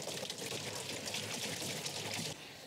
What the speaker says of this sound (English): so we pour in water.